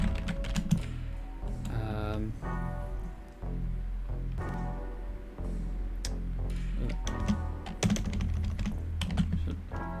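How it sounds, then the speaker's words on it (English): Steady clicking of fingers typing on a computer keyboard, a dense run of keystrokes with brief pauses and a voice speaking at times. "I'm typing and the words are happening"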